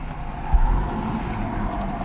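A BMW E46 car cruising on the highway, a steady low road and engine drone with tyre rumble and one brief low thump near the start.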